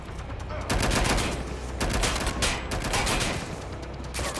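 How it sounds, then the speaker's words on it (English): Rapid bursts of gunfire in the Watch Dogs Legion video game, loud and close, with sharp cracks repeating in quick clusters over a dense, noisy background. "Stop shooting!"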